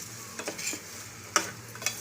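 Indrayani rice is stirred in a pan for masale bhat, giving a few quiet, scattered scraping and clinking strokes over a faint sizzle, with no talking.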